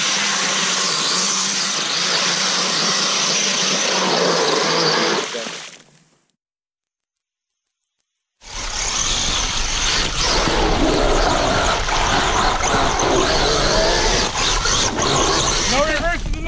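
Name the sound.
truck engine driving through mud pit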